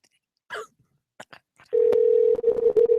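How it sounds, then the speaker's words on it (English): A steady phone tone sounds for over a second, loud and close, after a few short throat sounds, coughs and clicks. "you better answer the phone"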